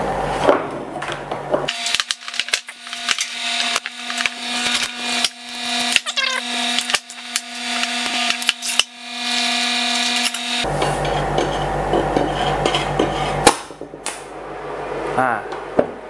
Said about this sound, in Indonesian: Nah, begitu kita mengelas, ini mesinnya baru mulai hidup sepenuhnya.